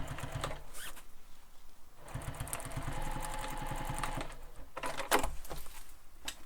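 A sewing machine runs a basting stitch across the short edge of a backpack, its rapid mechanical whir steady through the middle stretch, framed by fabric handling and shuffling before and after.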